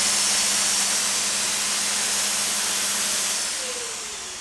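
A Wagner XVLP 5000 FinishControl paint sprayer running with material and air control turned up, giving a loud, continuous rushing hiss with a low steady hum underneath that fades slightly toward the end.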